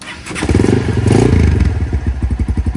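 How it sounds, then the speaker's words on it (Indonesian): A 2002 Honda Phantom motorcycle on its original exhaust is revved, loud and close, swelling into a throaty roar and then settling into an even, thumping idle pulse. "Ini adalah suara dari Honda Phantom"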